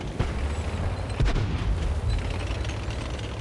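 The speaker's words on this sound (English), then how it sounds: "The church gets taken out by the artillery" Artillery fires in the tank battle game World of Tanks: a couple of heavy booming blasts that roll and rumble into a noisy, continuous battlefield din.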